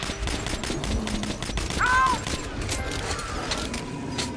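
Rapid gunfire in Metro: Last Light, a steady stream of loud shots, with mechanical clatter and voices mixed in.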